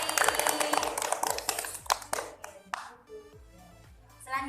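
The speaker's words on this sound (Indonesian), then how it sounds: "Tepuk tangan untuk Mbak Fitri" Brief clapping from a classroom of students for a classmate, a burst of hand claps that fades after a couple of seconds, with a voice coming through near the end.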